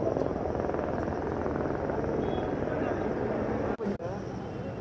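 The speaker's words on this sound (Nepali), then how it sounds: "ए हेलिकप्टर आएर नि गएको अवस्था छ।" A helicopter flies over flood-hit Melamchi in Sindhupalchok during heavy monsoon rain, a steady loud rotor and engine drone that holds throughout, broken by two brief dropouts near the end.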